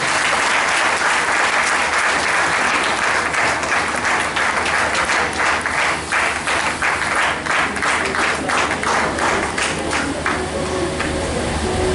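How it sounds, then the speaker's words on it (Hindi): A congregation at a church wedding claps loudly and steadily throughout, a dense, sustained burst of applause filling the hall with no talking over it. "आप अपने स्थानों में खड़ा हो जाइए और जोरदार थालियों के साथ प्रभु की महिमा।"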